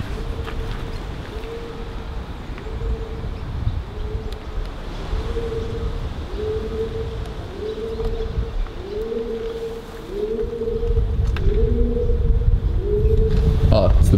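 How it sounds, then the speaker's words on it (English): Pigeons or doves cooing high up inside an abandoned brewery, a steady series of soft repeated coos over hollow wind-like room noise that swells toward the end. "Oh, it's the birds up there."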